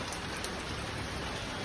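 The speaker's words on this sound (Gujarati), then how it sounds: "બહાર તો વરસાદ ચાલુ છે" Steady rain falling outside during the day, heard from a village rooftop terrace, a soft even hiss of drops with no voices, constant and fairly faint throughout.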